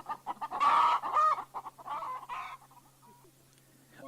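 Cartoon hens cluck in a farmyard scene, several bursts of clucking in quick succession, loud at first and then fading to softer calls.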